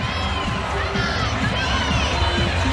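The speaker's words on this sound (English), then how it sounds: "And lots of boos, Connor. The crowd was not happy with that score." A gymnastics arena crowd at a UCLA vs Utah women's college meet reacts to a low score with loud, sustained booing and shouting, dense and roomy with whistle-like cries rising above it.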